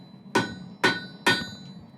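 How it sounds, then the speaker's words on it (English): Three evenly spaced hammer blows ring out on steel while a firesteel is forged, each strike sharp and loud with a short metallic ring, and no one speaks. "do the exact same amount of hammer strokes that you did on the other side"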